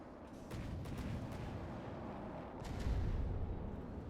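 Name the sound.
guns firing in the video game From the Depths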